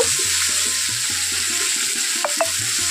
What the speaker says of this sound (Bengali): তো দিয়ে আবারও আমি সবগুলো একসঙ্গে মিশিয়ে নিচ্ছি।